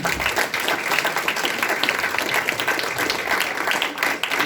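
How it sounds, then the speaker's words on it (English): An audience gives sustained applause for the board of education candidates at a Fayette County Republican Party forum, a dense, even wash of clapping from a room full of people. "Let's give them all a round of applause."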